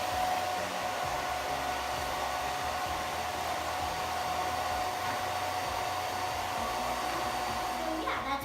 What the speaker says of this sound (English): So that's how the hair dryer bonnet works.